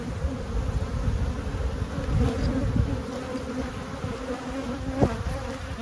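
Honey bees hum in a dense, steady drone from a crowded, booming hive, close and continuous with a faint rising whine near the end.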